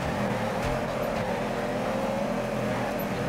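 A drift car's engine in the Torque Drift racing game at Evergreen Speedway, holding a steady, loud drone with a low, rumbling pitch and no talk over it.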